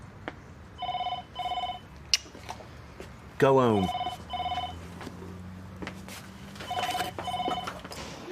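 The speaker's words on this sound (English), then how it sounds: "the phone's ringing, and I've got to get it." A telephone rings in repeated double bursts, three pairs spread across the scene, with a short voice exchange and a sweeping tonal sound in between, set in a domestic drama.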